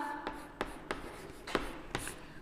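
A pen writes on paper during a Class 8 maths lesson, giving a steady faint scratching with several sharper stroke taps spread across the stretch, close and fairly quiet with no talk over it.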